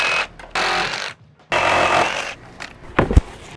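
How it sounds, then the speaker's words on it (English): A Sawzall reciprocating saw cuts through nails holding a wooden fence panel. Loud, close buzzing bursts of the blade start and stop abruptly, followed by a few metallic clanks and knocks. "I feel like a Sawzall is gonna be the easiest way to cut these"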